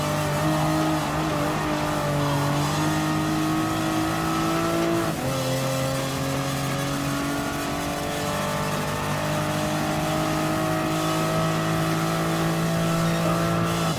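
A race car engine in Gran Turismo Sport drones loud and constant on the final lap at a speedway. The whine shifts pitch through a corner, with faint tire noise and no voices.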